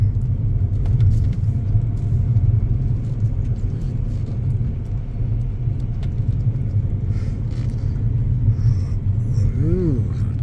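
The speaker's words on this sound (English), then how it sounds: "So we are just driving by this time." A car drives slowly through the Penn State Behrend college campus in Erie, Pennsylvania at dusk, a steady low road rumble running throughout with a faint voice talking now and then over it.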